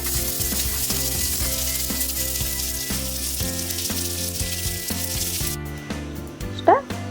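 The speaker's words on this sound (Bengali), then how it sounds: "আর মাছটা এবার আমি ভেজে নেব, ভালোভাবে ভেজে নেব।" Fish frying in a pan, a constant loud crackling sizzle under steady background music, which cuts off near the end as the sizzle drops away.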